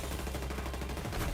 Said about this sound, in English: needle gun working on Rata